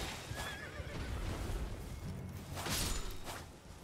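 In Elden Ring, an enemy's warhorse whinnies amid battle, with hoof clip-clops and swishing combat noise around it, all fairly loud and close.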